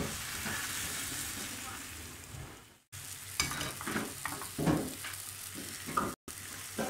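Eggs with spinach frying in a pan, a steady hiss of sizzling with occasional stirring scrapes, broken by two brief silent gaps; no voices.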